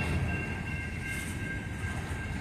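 BNSF locomotive 9253 hauls a coal train through Effingham, Illinois, a steady rumbling roll of rail cars with a faint high wheel squeal running across the whole stretch, close and continuous.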